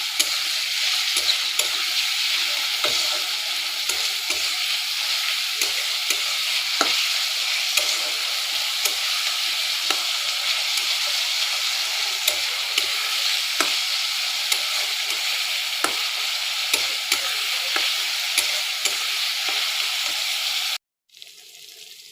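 Boneless chicken breast keema stir-fried in a pan for homemade pizza, a steady close sizzle with frequent spatula scrapes and clicks, continuous and loud, cutting off abruptly near the end.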